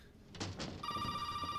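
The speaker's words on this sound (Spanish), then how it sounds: "Teléfono." A telephone in Resident Evil 7 begins ringing abruptly after a few soft thuds, a bright sustained electronic ring that holds steady to the end, fairly close and clear.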